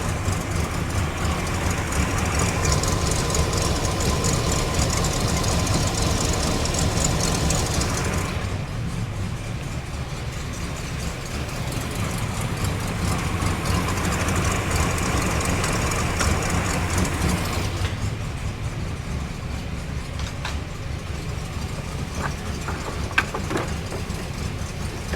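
A 1969 GMC truck engine, first started after 30 years and fitted with a small cam, idles with a steady deep rumble, loud and close, its tone shifting slightly partway through.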